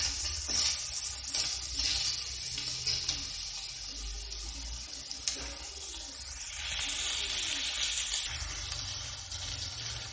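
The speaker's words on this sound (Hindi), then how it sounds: "वेजिटेबल्स को थोड़ा फ्राई होने दें उनको, जब तक उनके अंदर थोड़ा सा क्रिस्पीपन नहीं आ जाता" Vegetables fry in a pan for spicy spaghetti, giving a continuous close hiss and sizzle with faint scraping from stirring, steady throughout without speech.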